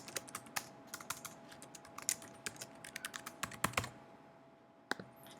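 Steady typing on a computer keyboard, a quick run of crisp, close key clicks with short pauses between bursts and no talking.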